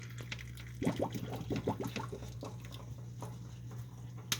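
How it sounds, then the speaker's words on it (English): Cooked noodles are drained for a tenderloin meal, with a run of wet drips and squishy liquid splashes close by, loudest early and thinning out over a low steady hum. "we're just going to be draining the noodles"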